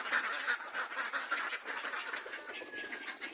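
A flock of ducks quacks busily and continuously as they are let out of their pen, a dense overlapping chorus close by with occasional wing flaps and no voices.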